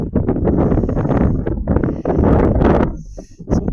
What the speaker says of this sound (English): You come round here and you face it again.